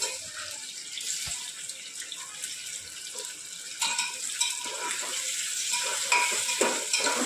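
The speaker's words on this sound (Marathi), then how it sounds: "टॉमॅटो पण थोडं परतवायचे आपण" Tomatoes sautéing in a pan for Maharashtrian masale bhat, a soft, steady sizzle with occasional stirring scrapes and a few water-like splashes, close and continuous with no talking.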